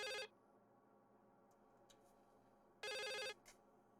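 Two bursts of an old-fashioned telephone ringing inside the horror game The Suicide of Rachel Foster, one at the start and one near the end, loud and clear with quiet room tone between.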